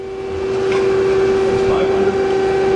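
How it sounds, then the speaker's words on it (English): A live tool spins up on a 2003 Takamaz X200 CNC lathe, giving a steady, loud mechanical whine with a sharp tonal hum that rises in the first half second and then holds, with faint voices in the background. "Now we're going to run the live tool."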